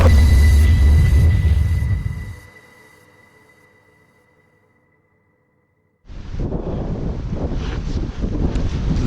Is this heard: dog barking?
no